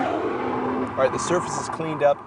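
Nissan GT-R Black Edition, a 2013 car, launching hard with its tyres slipping in first gear; a steady engine drone runs under a man's speech throughout.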